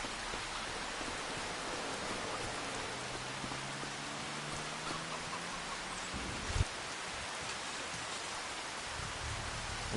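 Steady rain falls in Farming Simulator 25 on PS5, a dense, even hiss of drops on surfaces that continues throughout, with one brief knock partway through.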